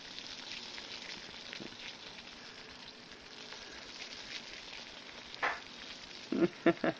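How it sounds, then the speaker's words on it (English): Water boils rapidly in a pot on a denatured alcohol single-burner stove, a soft steady bubbling hiss with a few sharp ticks and knocks near the end. "There it goes, rapid boiling at 3 minutes and 16 seconds."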